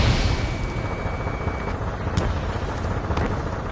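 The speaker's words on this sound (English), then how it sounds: "Gunfire and the roar of jets echoing through the streets." In the Ace Combat 7 video game, a dense, loud roar of jets fills a city at night, with a few sharp gunfire bursts cutting through.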